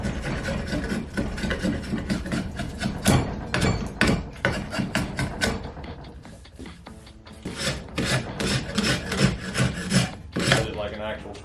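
Hand scraper dragged repeatedly over a wooden axe handle during an old axe restoration, giving rhythmic rasping strokes, close and fairly loud, with no talking.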